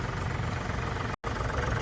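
A steady, close drone of an Arjun 605 4x4 tractor engine idling, broken by one very brief dropout.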